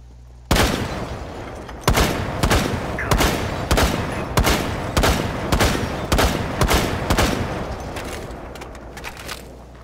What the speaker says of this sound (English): I thought someone shot at me.